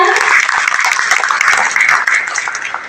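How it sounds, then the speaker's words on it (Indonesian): A crowd applauds steadily throughout at a cooperative's annual members' meeting, dense clapping from many hands with a faint voice or two mixed in. "Tepuk tangan untuk kita semua."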